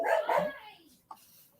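A dog lets out one loud, close bark, the sound fades, and a brief faint yip follows a moment later.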